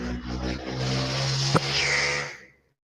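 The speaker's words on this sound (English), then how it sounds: "Loud motorbikes in the background." Loud motorbikes revving outside, a steady roaring engine drone that swells and then cuts off abruptly, heard from a distance behind an indoor tabletop role-playing session.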